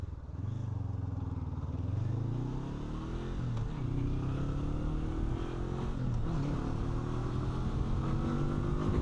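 A 2025 Honda NX500 engine pulling hard through the gears on a canyon road, rising tones stepping up with each shift and a steady close drone under the ride.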